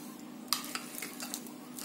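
Spoon stirring a coconut sweet mixture with cashews and almonds in a bowl, a few quick scrapes and light clinks over a couple of seconds, close and quiet.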